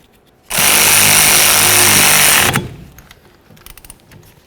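A power tool runs hard for about two seconds, tightening the rear brake caliper mounting bolt on a 2006-2012 Ford Fusion, loud and close, then cuts off, followed by faint clicks and handling noises.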